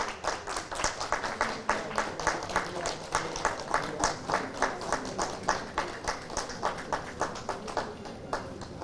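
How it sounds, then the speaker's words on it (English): An audience applauds steadily at an evening event after a tribute to India's Union Minister for Road Transport and Highways, Nitin Gadkari, the claps dense and sustained throughout with no talking. "Let's keep the applause going."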